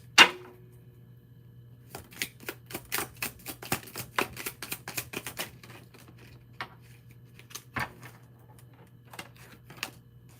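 A deck of cards shuffled by hand, a sharp riffle burst followed by a rapid run of crisp flicks and taps, close and clear against a low hum.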